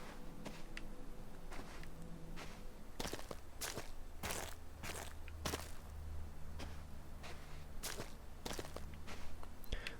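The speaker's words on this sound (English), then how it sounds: "listen to the sounds the floor makes as I walk in this" Footsteps in the puzzle game The Witness, walking across a floor that alternates between crunchy and soft patches, a steady stride of distinct crisp clicks and crunches with some steps muffled, heard alone with no talking.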